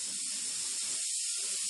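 A lit gas stove burner gives off a steady, continuous hiss, close and even in level from start to finish, with no other sounds or voices.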